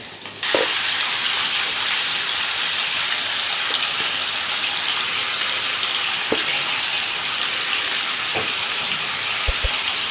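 Chicken breasts sear in a hot pan, giving a steady loud hiss that carries on evenly, with a few faint clicks and taps from the pan and no talk.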